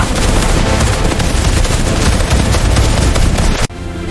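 Dense, continuous gunfire in an animated jungle battle roars loudly throughout, rapid bursts blending into a sustained barrage that cuts off abruptly just before the end.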